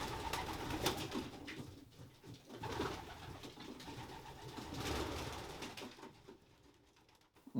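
Racing pigeon, a six-year-old hen, coos in a loft with soft bird rustling and pattering around it, steady and fairly near and without voices.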